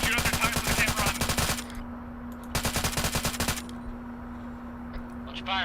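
Two long bursts of rapid automatic gunfire, loud and close, rattle out in a milsim video game as shooters aim at a fleeing vehicle's tires, with a steady hum between the bursts.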